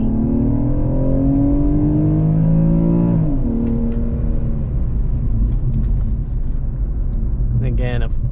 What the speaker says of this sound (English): So slightly let off the throttle, keep both engines running, full thrust.